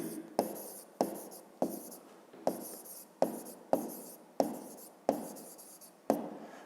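A pen or chalk writes out a math solution in a steady series of about a dozen short, crisp strokes, each a sharp tap fading into a soft scratch, close and fairly quiet with no speech.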